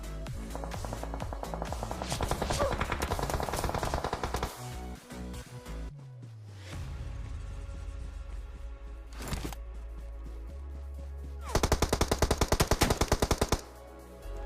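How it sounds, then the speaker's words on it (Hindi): Automatic gunfire rattles through a video game firefight, with rapid close bursts, a quieter stretch of scattered shots in the middle, and another dense volley near the end. "इतने में भाई मुझे जो है पीछे से कोई फायर करता है"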